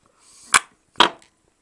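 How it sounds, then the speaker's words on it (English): Dented speaker dust cap dome being pulled back out with gentle suction, a rising hiss of air ending in a sharp pop, then a second hiss and crisp click, close and isolated. "it should be possible to pop that dome back out again"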